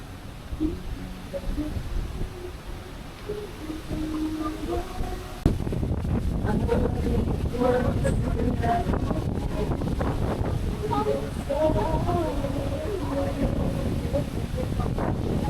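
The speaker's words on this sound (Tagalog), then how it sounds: "Malakas pa rin yung hangin." Strong wind roars steadily into the microphone on a beach at Dingalan, Aurora, buffeting it with a constant low rumble while a person talks over it.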